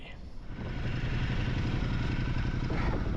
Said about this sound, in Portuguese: Agora vamos ter que virar a moto e vamos ver se a gente não cai.